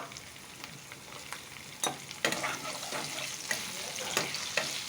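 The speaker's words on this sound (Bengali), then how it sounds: "কপি ভাজাতে একটু কাঁচা পেঁয়াজ দিয়ে দিলাম।" Cauliflower frying with raw onion in a pan on a home stove gives a steady close sizzle, with a few sharp scrapes and clinks of stirring scattered through and no voices.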